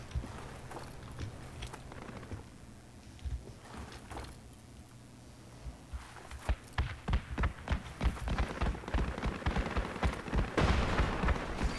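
Gunfire in the Project Reality military shooter, sparse distant shots early on that build into a dense run of sharp close reports and bursts toward the end, layered over a low steady background hum.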